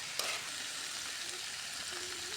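Fried cauliflower and potato are stirred into sizzling spice masala in a pan, giving a soft, continuous frying hiss with a few scraping stirs, quiet and close, no talking.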